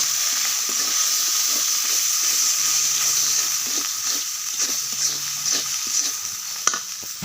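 Fish seasoned with salt, turmeric and chili powder fries in a pan under a constant close sizzle, while a spatula stirs and scrapes in soft, repeated strokes and a sharp knock lands near the end.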